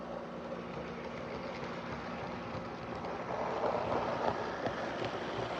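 A Bachmann N scale Great Northern 2-8-0 Consolidation model steam locomotive runs around its track, giving a steady, faint mechanical hum and rattle that swells slightly partway through, with no talking.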